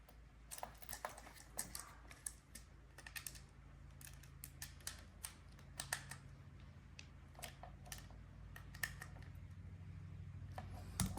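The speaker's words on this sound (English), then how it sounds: "watching screws get turned" Small screws being turned by hand while assembling a servo mount, a faint, close series of irregular light clicks and ticks with a low hum beneath.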